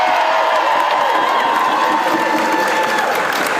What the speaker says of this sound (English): let's have a really special cheer for our Tumuaki principals